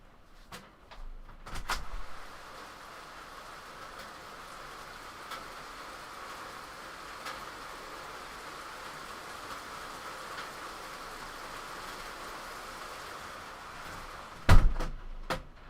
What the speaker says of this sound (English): So it's hailing and raining intensely now.